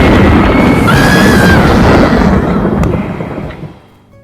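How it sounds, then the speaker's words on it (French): A thunderstorm breaks out as a loud, deep rolling rumble of thunder that fills the first few seconds, then slowly fades away into quiet. "un orage avait éclaté"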